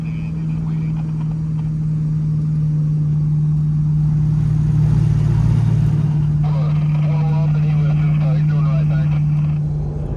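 An LS V8-swapped Mazda RX-7 FC is driven on its first drive, its engine giving a steady low drone that swells briefly in the middle while people talk over it.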